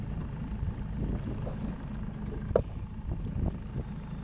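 Steady low rumbling wind buffeting on an open boat during summer bass fishing, a continuous broadband roar with a few faint knocks and clicks over it.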